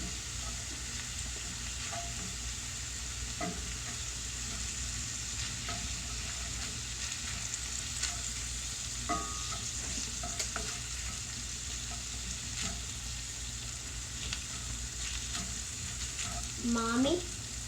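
Four tablespoons of all-purpose flour cook in a pan, giving a soft, steady sizzle under a low background hum, with occasional scrapes and taps of stirring and a brief faint voice near the end.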